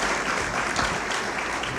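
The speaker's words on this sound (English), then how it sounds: "If we could please give them a round of applause." Applause from a breakfast event audience greeting two guests, a steady dense wash of clapping throughout, fairly close and even, with no talk over it.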